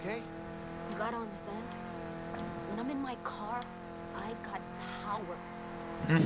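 In a video game, a car engine drones and revs continuously with rising and falling pitch, moderately loud, while someone talks over it.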